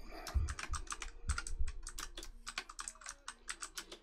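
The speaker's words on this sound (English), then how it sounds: "Is that keyboard too loud coming across your speakers?" Rapid clacking keystrokes on a computer keyboard, steady and close, with bursts of quick taps and a few heavier thuds at the start, heard alone without voices.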